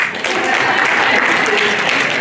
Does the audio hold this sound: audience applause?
yes